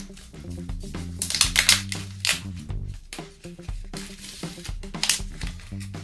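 Crinkling and rustling as a sachet package of jasmine green tea is torn open, close and fairly loud in several bursts of crackle, with softer handling noises between them and no talk.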